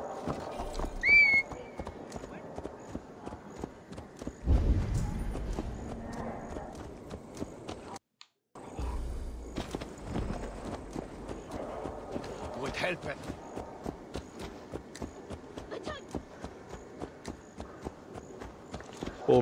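Horse hooves clip-clop steadily in Assassin's Creed Valhalla as a mount walks and trots around Lunden, the close, regular beats continuing under someone speaking Portuguese, with a brief silent gap midway.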